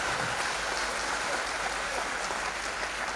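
Audience applause at a Hindi comic poetry gathering in Dadri, a dense wash of many hands clapping steadily and moderately loud for a few seconds.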